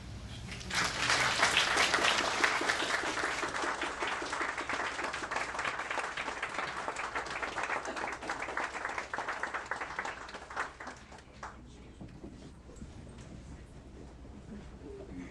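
Audience applause at a Black History Month event for a health system, a dense crowd of clapping hands rising quickly, sustained for about ten seconds, then thinning out to scattered claps.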